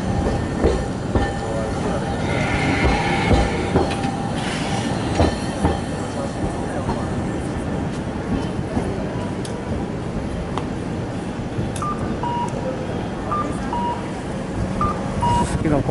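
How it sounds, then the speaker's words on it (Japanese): A streetcar pulls in at a busy intersection in the Susukino entertainment district of Sapporo, with a steady rumble of rolling wheels, metallic squeals and clatter. Street noise and voices mix in throughout. "電車が来ました。"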